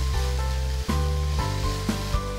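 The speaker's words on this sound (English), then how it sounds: "let's slide in the ginger garlic paste. And fry till the raw aroma of ginger garlic fades." Ginger garlic paste frying in a pan with half-cooked vegetables for a spinach cutlet, a steady hiss of sizzling oil running throughout beneath tonal background music.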